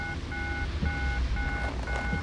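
A telephone keypad dialed in the video game Deadly Premonition: five evenly spaced touch-tone beeps in steady rhythm, clear and close over a low background hum, with no talking.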